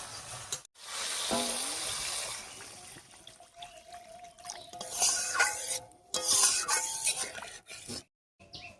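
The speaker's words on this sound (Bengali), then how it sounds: "এবারে ঝোলের জন্য জল দেব" Water pours into a pan of Bengali fish curry with vegetables to make the broth, a steady splashing trickle with short breaks and a few clinks, heard close and alone.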